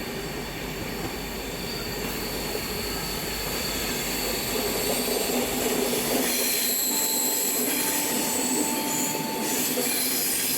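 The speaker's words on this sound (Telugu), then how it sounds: "బ్రిడ్జ్లోకి ఎంటర్ అవుతున్నాం" A passenger train with LHB coaches entering a long road-cum-rail bridge, heard from inside, with a loud steady rumble of wheels on rails, high squealing tones rising in the second half, and a faint clatter underneath.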